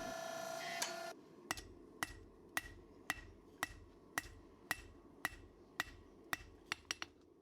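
Hammer ringing on a Damascus steel knife blade over an anvil, about a dozen sharp, evenly spaced blows after a brief louder burst of workshop noise, closing with a quick double strike.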